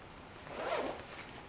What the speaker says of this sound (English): Very simple to remove. You've just got to zip all the way around.